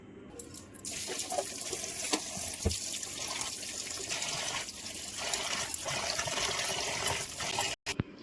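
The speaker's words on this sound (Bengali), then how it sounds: "চলুন আগে সবজিগুলো একটা একটা করে ধুয়ে নিই" Vegetables are rinsed one by one under a running kitchen tap, a steady close rush of water with splashes and shifting flow that cuts off abruptly near the end, with no talk.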